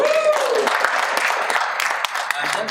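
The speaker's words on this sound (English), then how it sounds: "I want you to clap it up for yourselves" Conference audience clapping, a busy patter of applause with scattered sharp claps at moderate loudness, with a brief tonal sweep and some voice-like sound at the start.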